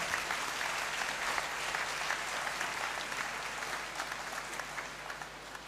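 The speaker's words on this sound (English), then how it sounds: "with a clap offering for all those who have worked" Sustained audience applause fills a university congregation ceremony in a great hall, a steady wash of many hands clapping that slowly fades toward the end.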